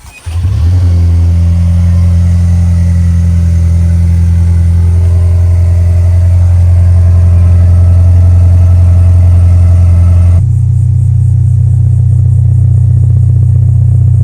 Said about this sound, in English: the TRD exhaust, man, actually sounds pretty good for a 4-cylinder